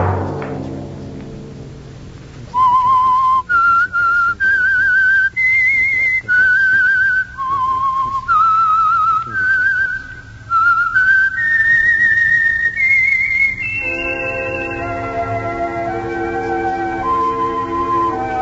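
A lone melodic whistle performs the signal theme of The Whistler radio program, clear sustained notes stepping up and down in pitch, then fading under an orchestral swell near the end.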